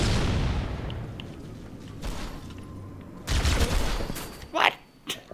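Bursts of enemy gunfire in the Halo video game, several sharp volleys and crackling shots spread through the stretch, some distant and some loud and close, over a low ambient bed.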